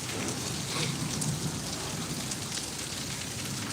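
Heavy rain pours down in a strong, unbroken hiss during a windy storm, with a low rumble beneath it and no voices, steady from start to finish.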